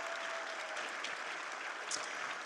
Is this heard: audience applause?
yes